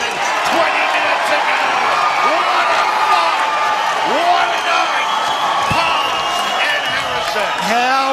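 Boxing crowd at Southport cheering and applauding on their feet after a fight, a dense, loud roar of claps, whoops and shouts under a commentator's voice.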